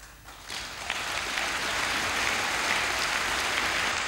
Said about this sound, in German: Minutenlanger brausender Beifall nach einer großen Abschiedsrede.